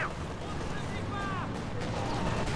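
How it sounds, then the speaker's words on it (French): Gunfire in a 1v1 championship final video game match: a few sharp shots and bursts cut through a steady rumble of battle noise, with thin whistling tones drifting overhead. "Il tire à travers, il a eu un tir."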